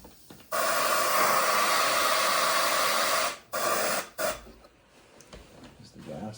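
Compressed air rushes out of a compressor tank in a loud, steady hiss for about three seconds, breaks off, then gives two shorter bursts before fading to quiet.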